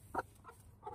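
Chicken giving a few soft, brief clucks, one slightly stronger sound followed by two fainter ones, quiet and close with no talking.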